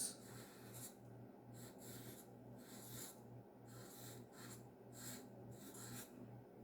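A pen writes on paper during a maths lesson on repeated addition, giving soft scratchy strokes in short bursts with pauses between them, close up and fairly quiet, with no talking.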